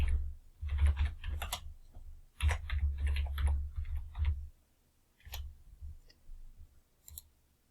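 Rapid bursts of clicky computer-keyboard typing while VBA code is entered, close and clear, with short pauses between the runs of keystrokes.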